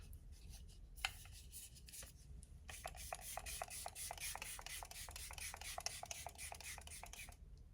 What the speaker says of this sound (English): we're going to go in with the Milk Cosmetics Pore Eclipse Setting Spray